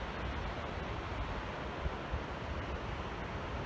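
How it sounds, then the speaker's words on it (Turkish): Water rushes in a mountain stream on Yumru Dağı, a steady broadband wash of moderate, even loudness with no voices. "Oo burada çok güzel su akıyor."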